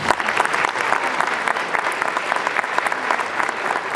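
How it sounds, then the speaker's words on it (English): Sustained applause from a concert audience at a sixth grade holiday school band concert, steady dense clapping for the flute section lasting throughout, fairly loud and even with no talking. "So one more round of applause for them."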